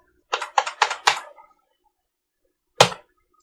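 Computer keyboard typing: four quick clicking key presses in a short burst, a pause, then one louder single press like a spacebar, close and crisp with no talk.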